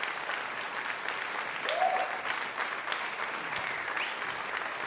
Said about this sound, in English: I gotta give you an applause here.